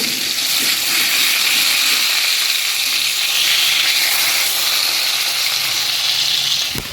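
Onions fry loudly in a pan with a bright, constant sizzle and hiss, heard close and alone with no talk over it, while a few faint stirring scrapes show through the noise.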